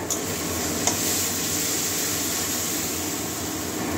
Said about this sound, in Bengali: মশলা থেকে যতক্ষণ তেল ছাড়ছে না ততক্ষণ কষাবো, টমেটোটা যতক্ষণ নরম হয়ে যাবে।